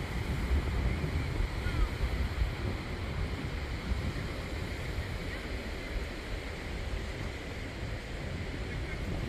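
Distant surf breaking offshore over shallow water at Pawleys Island, South Carolina, heard as a steady low wash under heavy wind buffeting on the microphone, with no clear individual wave crashes.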